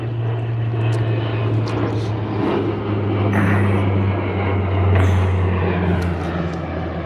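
An airplane flying overhead, a steady droning engine hum that swells slightly and holds for several seconds, heard alone outdoors near a boat.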